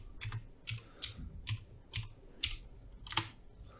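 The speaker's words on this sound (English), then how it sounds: "Type in here what you're looking for" Typing on a computer keyboard while searching a knowledge base: about seven crisp, close key clicks land at an even, unhurried rhythm, quiet and alone with no voices.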